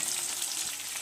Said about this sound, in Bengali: সব একসাথে নাড়তে নাড়তে পেঁয়াজ এভাবে ভাজা হয়ে